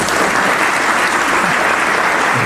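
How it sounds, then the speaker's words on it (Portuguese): An audience claps for a speaker at a talk, producing loud, dense, sustained applause from many hands throughout. "Gostaria de uma salva de palmas aqui."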